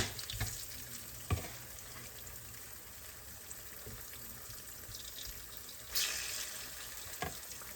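Okra fries in hot oil with a continuous soft sizzle and crackle, broken by a few louder bursts and clatters as pieces go in or are stirred, quiet and close with nobody talking.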